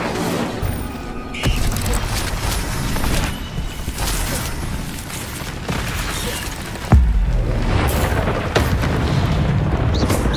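A fire spell fires off in combat in the Hogwarts Legacy video game on PS4 amid a continuous roar of explosive bursts and booms, loud and dense, with a sharp hit near the middle.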